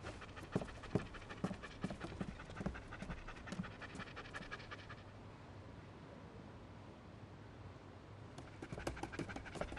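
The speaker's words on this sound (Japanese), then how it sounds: "把警犬带过来。" A police dog pants in quick, rhythmic bursts close by, with some scuffling and hoof-like clopping. The panting pauses midway, then resumes near the end.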